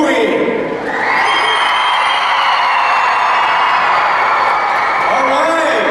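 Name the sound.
audience applause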